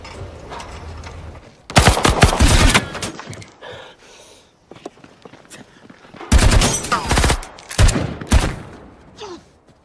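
A shootout between a sheriff and a man in the film Cop Car (2015) erupts in two dense bursts of rapid gunfire, loud and close, separated by a quieter stretch of faint mechanical sounds and low voices.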